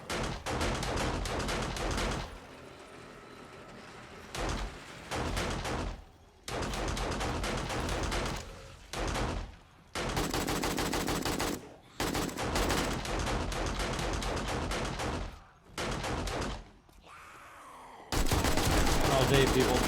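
Kill box turrets in 7 Days to Die hammer away at zombies in long, dense bursts of rapid fire, broken by short quiet gaps, loud and close throughout.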